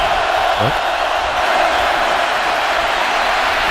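A large stadium crowd at a college football game between BYU and Nebraska roars in a steady, loud, unbroken wash of cheering and noise from start to finish.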